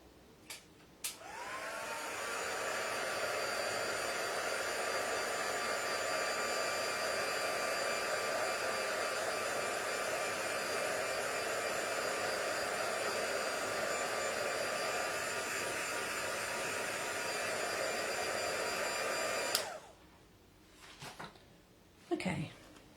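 A hair dryer blows continuously for about eighteen seconds to dry ink on a handmade card, a steady whooshing whine that clicks on, runs evenly and cuts off, followed by a few soft handling knocks.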